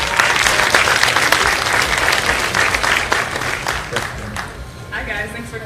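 A crowd claps steadily, dense applause filling the room, easing off slightly toward the end.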